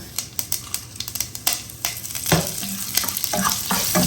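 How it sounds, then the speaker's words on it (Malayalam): Fennel seeds and curry leaves sauté in hot oil, a steady sizzle broken by sharp clicks and scrapes of a spoon stirring in the pan, close and fairly loud. "നന്നായിട്ടൊന്ന് വഴറ്റി കൊടുക്കുക"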